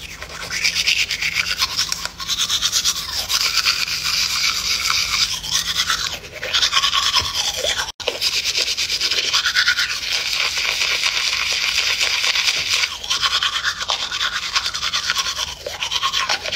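A toothbrush scrubs teeth at close range in a continuous, rapid back-and-forth scratching, with one brief break midway and no speech.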